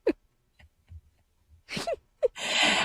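A single sharp sneeze bursts out near the end after a few quiet breaths and small intakes of air, followed by a brief hissing exhale.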